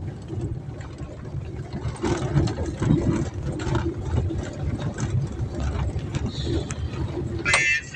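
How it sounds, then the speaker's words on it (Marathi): A large tractor's engine idles nearby with a steady low rumbling drone and mechanical clatter, heard outdoors in a village, with a faint brief higher whine near the end. "कसलं ट्रॅक्टर आहे मोठं"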